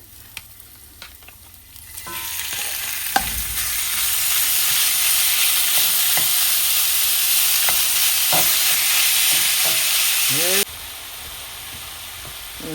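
Meat for Filipino pancit hits a hot pan and breaks into a loud, steady sizzle, with occasional spatula scrapes over the hiss.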